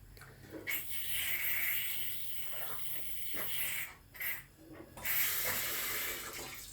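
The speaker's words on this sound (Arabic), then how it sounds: "ده صوت الحنفيه فيها هوا." A running tap hisses and sputters irregularly, the flow surging and cutting out in bursts as air spits through the water.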